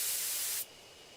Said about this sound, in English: Take careful aim and spray the drug.